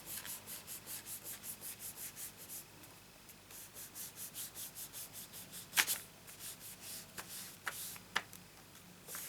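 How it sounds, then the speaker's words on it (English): Fingers rubbing scrap paper over a freshly stamped t-shirt, a soft, even scuffing repeated in quick regular strokes, close and quiet, with a few sharper crinkles midway. "put some scrap paper on it and just rub it with your fingers"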